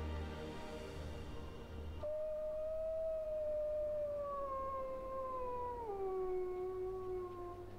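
In the game The Long Dark, a wolf's long, wavering howl slides slowly downward in pitch over several seconds, with a rumbling background beneath it.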